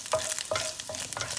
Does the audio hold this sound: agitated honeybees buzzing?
no